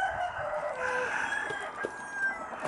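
Rooster crowing outdoors on a spring farm with goats, a faint, somewhat distant crow with a couple of drawn-out calls over quiet background.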